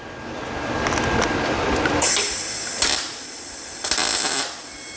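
Short bursts of a welder tacking metal, several brief crackling hits a second or so apart standing out over steady background hiss, fairly close.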